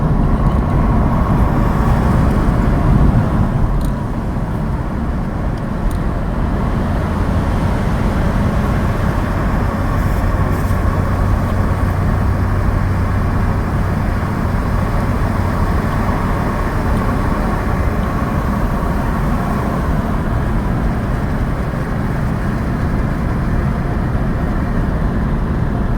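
Continuous road and wind roar from inside a car cruising on Interstate 75 near Atlanta, loud and unbroken for the whole stretch with a steady low rumble.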